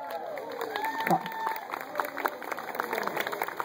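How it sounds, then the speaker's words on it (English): Audience applause at a horseradish pageant in Collinsville as finalists are called up, steady mid-level clapping from a crowd with scattered whoops and voices mixed in, continuing for several seconds. "Let's give our 7 finalists a big round of applause."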